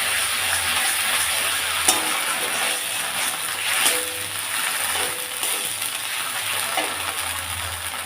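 Bengali masala frying in oil for daab chingri (prawns cooked in green coconut), a steady close sizzle with a few scrapes and clinks of a spoon stirring the pan.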